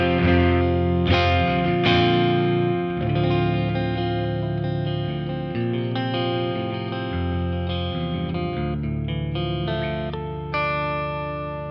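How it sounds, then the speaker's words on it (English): An electric guitar plays chords and notes through a Thorpy FX The Dane pedal with Lexicon 224 reverb, continuous and loud with a saturated, shimmering tone. "this is the sound of the guitar"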